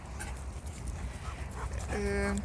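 Dogs whimpering outdoors on an evening walk, a high thin whine rising near the end over steady wind and background noise, with a voice faintly present.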